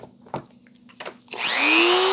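Dremel rotary tool switched to high speed while cutting open a Mitsubishi Pajero transmission control unit, a sudden loud rising whine after a few faint clicks and handling knocks, then sustained and close.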